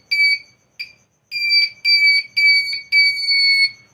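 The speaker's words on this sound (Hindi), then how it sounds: "और बीप भी सुनाई देगी। दोनों फैसिलिटी इस कंटिन्यूटी डीसी टेस्टर में विद्यमान है।" A pocket DC continuity tester beeping as its probes touch, giving loud, clear electronic tones in short chirps and then longer sustained beeps separated by brief gaps.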